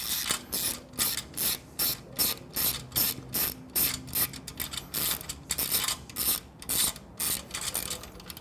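A 10mm ratchet tightens an exhaust clamp on a Triumph Bonneville motorcycle, clicking in a steady run of short, even bursts close to the mic, with no voices over it.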